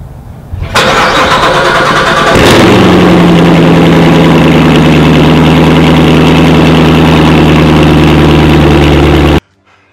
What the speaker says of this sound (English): I put on, of course, the Course Extreme exhaust system.